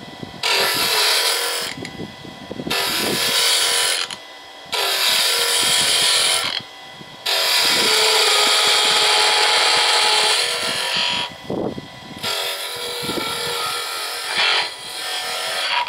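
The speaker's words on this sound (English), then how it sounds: "with a gouge like this, I can twist and lift it at the same time to get a nice" A wood gouge cutting a spinning cylinder on a lathe, producing bursts of harsh hissing, scraping shavings that start and stop repeatedly at close range, with slight vibration and a rumbling motor underneath.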